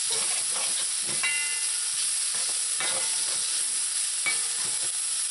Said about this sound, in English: after your onions are brown, you're going to add your smoked herring. Mix.